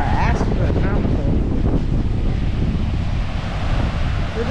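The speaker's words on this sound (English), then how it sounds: "these waves are astronomical" Loud, continuous rush of surf with waves breaking close by on a windy beach, wind buffeting the microphone throughout.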